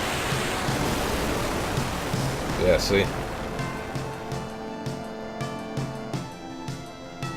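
A broad rushing surge of water from a Leviathan summon attack in Final Fantasy 8 washes over game music, then ebbs as tonal chimes take over, with someone talking briefly over it.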